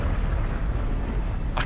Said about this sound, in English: What's the huge explosions now on 0?